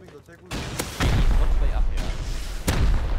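Rocket explosions in Rust during a foundation-wiping raid: heavy booming blasts, one landing around the half-second mark and a louder one near the one-second mark, then a dense rumbling roar with another sharp hit near the end. Voices talk over the blasts.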